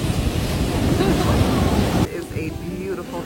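Ocean waves and surf washing in continuously on a beach on a cloudy day after rain, a broad steady roar mixed with wind noise on the microphone, cutting to quieter surf partway through.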